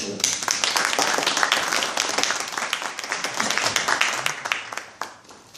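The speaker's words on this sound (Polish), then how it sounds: "brawa dla kandydatów do" Crowd applause for election candidates at a Civic Platform campaign event in Bochnia, a dense steady burst of many hands clapping that stays loud throughout, then tapers at the end.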